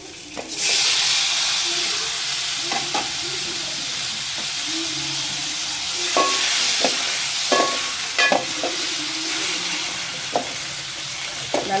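Chopped onion and tomato sautéing in a pan for a fish curry, a steady loud sizzle and hiss with scattered scrapes and clicks of stirring.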